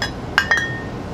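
A glass wine bottle clinks as it is picked up, two short bright chinks close by with a faint ringing tail, in an otherwise quiet room.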